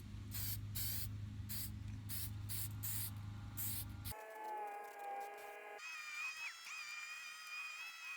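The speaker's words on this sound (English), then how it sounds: "I'm just going to go ahead and spray all the spots here." Aerosol rust converter hisses from a can onto rusty spots near a car's trunk lid in short repeated bursts, loud and close, with no talking.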